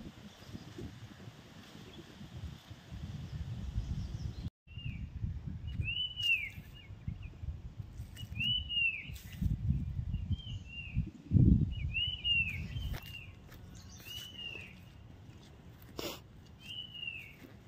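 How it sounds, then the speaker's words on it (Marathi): A bird whistles repeated short, rising notes at intervals across a small garden outdoors, clear but moderate in volume over low wind rumble and handling noise, with faint background sounds. "पक्षी कुठून शिळ घालतोय कळत नाही खरं"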